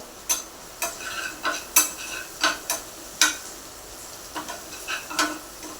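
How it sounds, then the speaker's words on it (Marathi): Red chili powder fries in a pan for tomato chutney while a spoon stirs it, giving a series of sharp scraping clicks over a soft sizzle, close and irregularly spaced. "तर यामध्ये आपण लाल तिखट हे परतून घेऊया"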